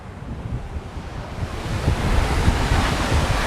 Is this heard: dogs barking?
no